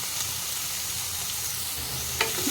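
Onions frying in a pan, a steady close sizzle with a few stirring clicks near the end, moderately quiet.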